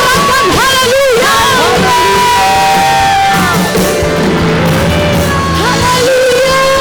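A church congregation at a Sunday worship service shouts and cheers hallelujah together, a loud sustained crowd roar of rising whoops and yells filling the room.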